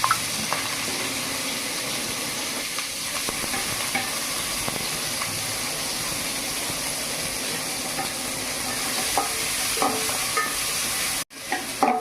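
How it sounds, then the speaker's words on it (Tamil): Onions sautéing in oil with cloves and cinnamon for bagara rice, a continuous hissing sizzle with frequent stirring scrapes and clatter, steady throughout with a brief dropout near the end. "வெங்காயம் நல்லா வதக்கணும்."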